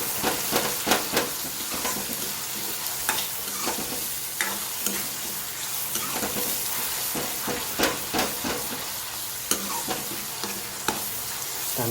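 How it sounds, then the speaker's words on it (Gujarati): Garlic chutney masala roasting and being stirred in a pan, with a steady close sizzle and hiss broken by repeated scraping clinks of the spoon, no voices. "લસણની ચટણી સાથે આપણે બધું ક્રશ કરી મસાલો આપણે શેકીએ"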